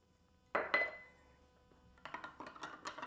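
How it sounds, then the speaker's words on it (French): Spoon knocking and clinking in a container while thirty grams of salt is stirred into a litre of water for cucumber brine, a couple of louder strikes then quick repeated taps, close but soft. "On va bien brasser"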